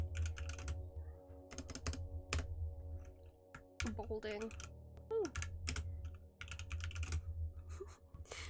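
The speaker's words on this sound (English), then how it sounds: "My keyboard is so loud." Loud computer keyboard typing in bursts of rapid clicking keystrokes with short pauses, close by, while a person talks briefly over it.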